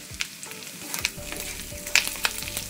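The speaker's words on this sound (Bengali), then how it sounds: "গাজর আর পেঁয়াজটাকে আরও কিছুক্ষণ একটু ভেজে নিয়ে" Carrots and onions frying in oil in a pan, a close, steady sizzle broken by scraping clicks and taps as they are stirred.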